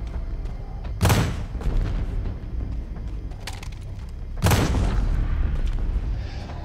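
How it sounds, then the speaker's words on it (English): Gunshots in the video game Beyond: Two Souls, two heavy booming shots a few seconds apart over a low rumbling background. "Okay, gunshots."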